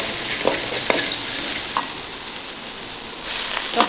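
Indian pennywort greens and garlic frying in a pan make a continuous bright sizzle, with a few soft stirring scrapes of the utensil breaking through at intervals.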